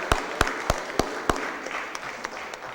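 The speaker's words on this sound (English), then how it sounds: "let's give him a round of applause" Applause during a city Board of Aldermen meeting in St. Louis: a handful of sharp, spaced claps rings out over a soft room murmur, thinning out toward the end rather than building into full ovation.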